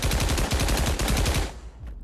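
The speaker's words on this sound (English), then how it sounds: "I know this is Thompson," Thompson submachine gun in the VR shooter Pavlov fires a rapid, loud, continuous burst of about a second and a half that cuts off sharply, leaving a brief fading tail with no talking.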